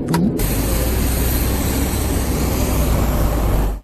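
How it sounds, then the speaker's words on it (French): ATR-72-600 turboprop airliner taking off, a 70-seat plane: a loud, steady, broad engine roar holds throughout at close range, with no talk over it. "Ce bruit, c'est l'avion ATR-72-600 de Lise Aviation qui décolle, un avion de 70 places."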